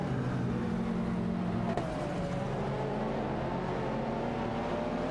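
In a racing video game, a Ferrari 288 GTO Evolution and a Lamborghini Diablo SV roar along, locked in a battle for position. The engines drone loud and steady with shifting pitch the whole time.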